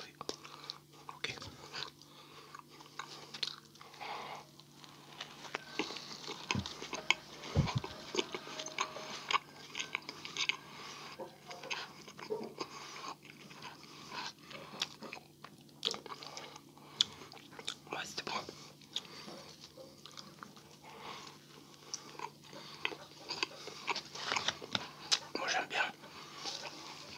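Close-up eating of a McDonald's burger with vegetables, bacon removed, in a quiet whispered setting: soft repeated bites and wet chewing crunches scattered throughout, with occasional faint whispering.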